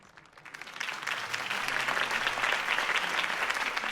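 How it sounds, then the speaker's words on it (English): Crowd applause swelling after a campaign speech for Harvey Dent in the Batman Telltale video game, clapping building from soft to a sustained, fairly distant roar. "could have heard that applause"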